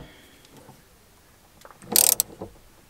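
The battery clamp on a Chevy van is tightened, a brief close burst of ratcheting clicks rising out of near silence.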